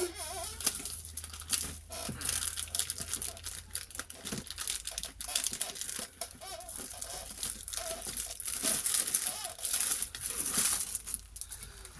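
Paper crinkles and rustles continuously at close range while being handled for a French door folio craft project, with scattered crisp crackles and no talking.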